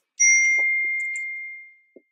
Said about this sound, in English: my sister just texted me